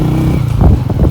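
A motorbike engine labours loudly up a steep, cold, high-altitude mountain road from Skardu toward Deosai. It gives a steady, close drone with rough rumble and buffeting, with no talk.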